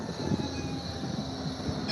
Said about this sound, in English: There's a train coming in the way.